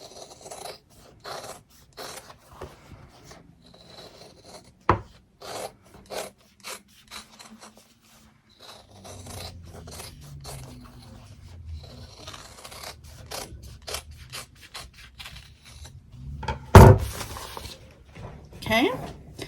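Scissors cut around a stitched in-the-hoop fabric mug rug, giving soft intermittent snipping and rubbing sounds close by, with a few louder handling knocks and people talking throughout.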